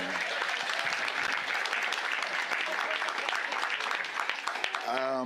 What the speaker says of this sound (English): Yeah, give him a round of applause